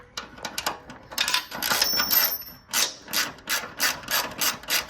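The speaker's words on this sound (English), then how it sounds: "you just put your socket on it here, give it a few turns, and it'll pull right up tight" Socket wrench ratcheting a bolt snug while fitting a power steering cooler and radiator, close clicking bursts followed by a steady run of evenly spaced ratchet strokes.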